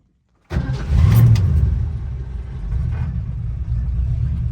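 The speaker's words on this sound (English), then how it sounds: "Starts nicely and settles down to a nice low rumble at idle." A 1967 Ford Mustang fastback Bullitt replica with a 289 V8 and manual gearbox cranks and fires after a brief silence, then settles into a steady, loud, low burbling idle rumble nearby.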